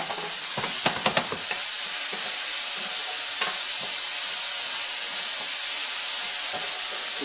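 Chopped onion with salt sweats in a pan, a steady broadband sizzle and hiss running throughout, with a few sharper clicks and scrapes of stirring near the start.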